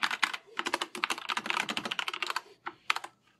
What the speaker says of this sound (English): you put a greater than symbol and you start typing